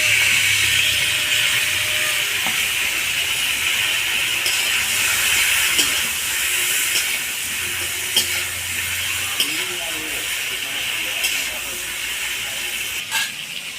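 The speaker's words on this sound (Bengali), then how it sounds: "ধুয়ে রাখা পটলটা আমি দিয়ে দেবো।" Pointed gourd (potol) frying in oil with turmeric and salt, a steady bright hiss and sizzle with occasional faint clicks of stirring, continuous and fairly loud throughout.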